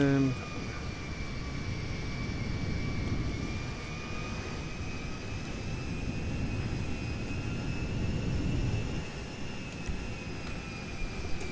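A jet airplane taxis for departure in GTA 5, its steady engine whine and rumble continuous and fairly loud throughout, with no talking over it.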